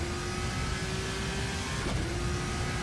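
Formula RSS 2 V6 2020 single-seater in the Assetto Corsa racing game, its engine droning steadily at high revs for the whole stretch, close and loud with a constant whine.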